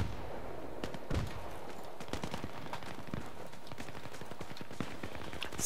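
Battlefield 3 multiplayer gunfire crackles in quick scattered bursts, sharp single shots mixed with short volleys at moderate distance, fairly quiet, with no talk.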